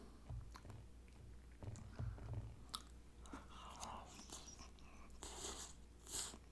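Tobiko fish-egg sushi is chewed with soy sauce, close and quiet, with soft wet chews and small crunchy pops that come in irregular bursts and carry no talk.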